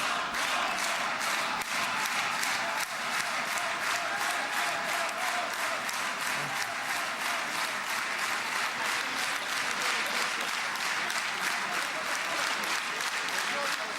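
Sustained applause fills a large hall as a protester is ushered out, dense steady clapping from a big audience lasting throughout at an even level, with faint voices underneath.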